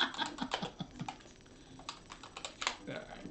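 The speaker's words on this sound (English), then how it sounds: "I hate clicky clacky keyboards." Rapid clicky keys clatter on a computer keyboard in irregular bursts of sharp taps, close and fairly quiet, with a faint voice murmuring in the background.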